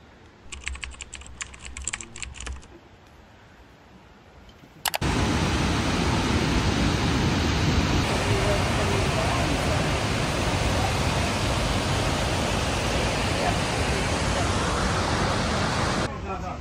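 Savica waterfall in Slovenia roars as a loud, steady, broadband wash of falling water, close and continuous after a brief stretch of quieter sounds at the start.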